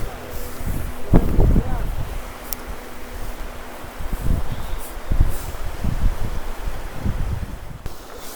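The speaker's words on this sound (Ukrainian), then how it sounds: "Аж вітер задув такий" Wind gusts buffet the microphone outdoors, low rumbling bursts over a steady rushing background.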